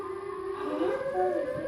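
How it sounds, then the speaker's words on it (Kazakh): A wavering, siren-like howl rises and falls in long, moderately faint tones over a low background hum, heard from some distance. "Мына сиренаның дауысы сияқты ғой."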